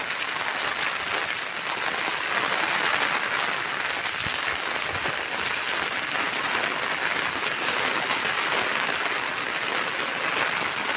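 Heavy rain pouring down in a downpour on a flooded farm, a dense, steady broadband roar that stays loud and unbroken from start to finish, with no voices.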